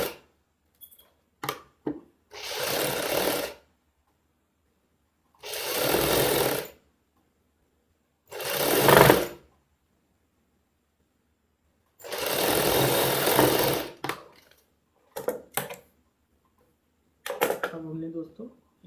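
Sewing machine stitching the neckline of a Punjabi suit, running in four or five separate bursts of a second or so each, loud and close, with short pauses and small handling clicks between runs.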